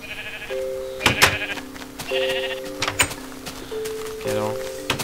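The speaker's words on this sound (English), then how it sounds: "There's a sheep on the middle fence." Sheep in Minecraft bleat in several short synthetic calls spread across the moment, loud and close, with clicks and other game sounds between them and people talking.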